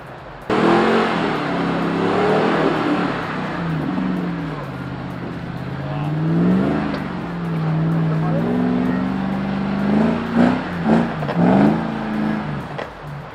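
Land Rover Defender 110 pushing through rain and mud on an extreme 4x4 off-road weekend, its engine droning loudly and steadily, pitch rising and falling as it revs, with a few rougher surges near the end.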